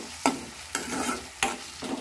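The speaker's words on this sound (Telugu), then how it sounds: "ఇది కూడా కొంచెం పచ్చివాసన పోయే వరకు దీన్ని ఇలా ఫ్రై చేసుకోవాలి." Ginger garlic paste frying in a pan, with a steady sizzle broken by several sharp scraping stirs of a spoon at irregular intervals, close and clear with no voices.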